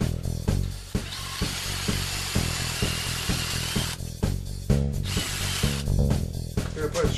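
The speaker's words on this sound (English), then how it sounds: "I'm drilling a 3/8 hole." A power drill bores a 3/8-inch hole into a wooden shelf piece for a corner stand, its motor whirring loudly in repeated bursts with short pauses, and a brief louder grinding stretch near the end.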